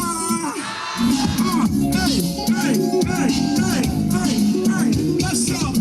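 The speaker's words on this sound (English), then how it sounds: "let's listen to the crowd" A large crowd at a parliamentary election results rally chanting together, a loud, continuous mass of many overlapping voices with shouts rising from the throng.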